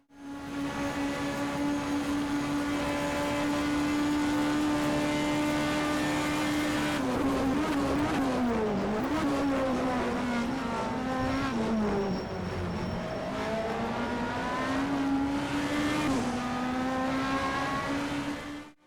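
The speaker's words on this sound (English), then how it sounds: "let's listen to the engine" A BTCC Super Touring race car engine in rFactor 2 sings at high revs, holding a steady tone before dropping and climbing through repeated gear changes and throttle lifts, loud and close for about nineteen seconds.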